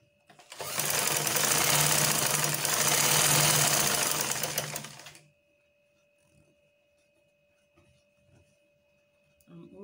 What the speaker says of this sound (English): Follow the curve while you sew.